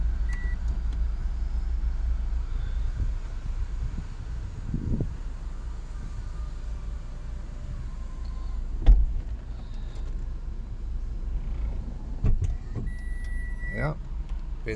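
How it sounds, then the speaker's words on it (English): A small convertible car's electric power roof runs open and then closed, a low motor whir under steady cabin noise with a few clicks and brief speech. "Right, I'll show you the roof operation now."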